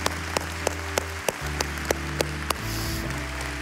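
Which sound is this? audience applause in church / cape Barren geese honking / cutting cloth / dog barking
audience applause in church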